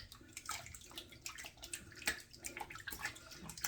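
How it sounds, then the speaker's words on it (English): Running tap water splashing steadily in a bathroom sink while hands are rinsed, with continuous broadband wash and small irregular splashes throughout, close and fairly quiet. "Just washing my hands off here now."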